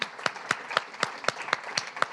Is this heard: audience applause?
yes